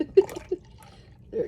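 Liquid for a Scotch broth pours slowly into a pot: soft, close glugs and drips in a few brief bursts with short gaps between them.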